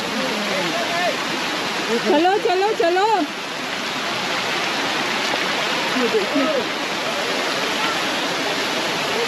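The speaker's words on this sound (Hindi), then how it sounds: "ये देखिए ग्लेशियर के बर्फ के नीचे से यहाँ पानी आ रहा है।" Meltwater rushes out from under glacier snow on the Amarnath Yatra route near Pahalgam, a steady, loud broadband roar of flowing water heard throughout while someone talks over it briefly.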